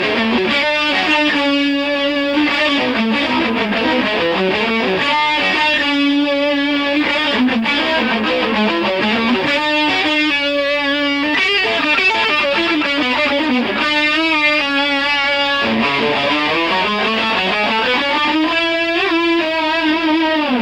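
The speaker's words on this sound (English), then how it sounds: "Now slowly that lick would sound like this." Slow, sustained electric guitar harmony lick in a rock style, overdriven tone with bends and gliding notes that rise and fall across about twenty seconds, loud and continuous with no speech.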